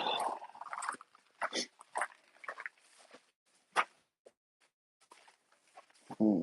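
A pet dog whimpers and whines in short, scattered bursts close by, with faint shuffling between cries and a brief louder yelp near the end.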